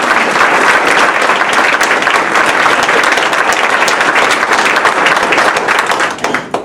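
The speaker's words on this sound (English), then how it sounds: "Let's give him a round of applause as well." Loud, dense audience applause at an evening campaign event in Humboldt, Iowa, sustained and close for several seconds before thinning slightly at the end, with no talking over it.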